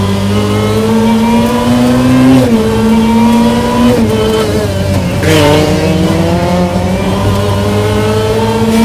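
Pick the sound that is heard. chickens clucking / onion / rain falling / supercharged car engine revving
supercharged car engine revving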